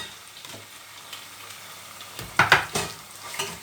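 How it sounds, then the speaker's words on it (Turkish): Tomato paste sautéing in a pan, a soft continuous sizzle with a few brief louder scraping stirs near the end, close and alone. "Salça böylece soteliyorum."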